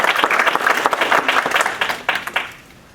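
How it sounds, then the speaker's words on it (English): A room full of people at an estate planning seminar claps steadily for a few seconds, loud and dense, then the applause thins and fades. "So let's give them a round of applause."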